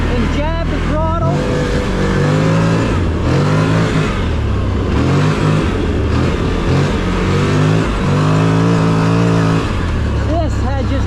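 A CFmoto Cforce 1000 ATV engine in sport mode revs hard with repeated throttle jabs, a loud, close roar rising and falling in pitch and sustained throughout.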